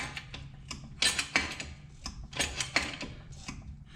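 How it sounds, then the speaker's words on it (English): A car jack cranked up under a Dodge Dart during front-end suspension repair gives repeated metallic ratcheting clicks in uneven bursts, close and clear. "we're going to jack this up a little bit"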